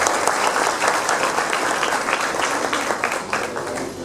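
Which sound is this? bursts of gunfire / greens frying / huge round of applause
huge round of applause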